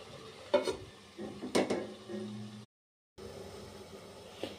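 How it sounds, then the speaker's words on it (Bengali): A spoon stirs bottle gourd curry (lau ghonto) in a pan, with a few scraping knocks and a soft sizzle, then a short silent gap before quiet sizzling resumes; no talking. "এবার ঢাকাটা তুললাম, তুলে একটু নাড়াচাড়া করলাম।"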